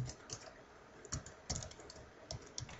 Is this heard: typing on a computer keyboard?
yes